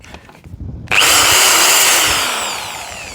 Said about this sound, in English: And now only the drill is the noisy bit.